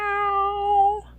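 A human voice imitates a cat with one drawn-out, clear meow lasting about a second, heard alone and close up.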